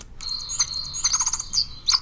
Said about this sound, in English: and it will respond with some tweets.